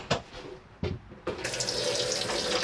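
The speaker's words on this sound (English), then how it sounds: "The taps working there" Water runs from the hand basin tap in a Coachman Laser 675 caravan, starting after a few knocks and clunks, then flowing steadily and close, with a hissing splash into the basin.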